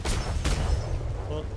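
Ship cannons fire from the port side in a roleplay naval battle, heard as a rapid run of loud, booming blasts with heavy low rumble. Two sharp reports stand out near the start, and voices talk faintly beneath them.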